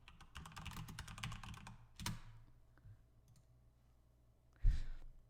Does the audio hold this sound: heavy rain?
no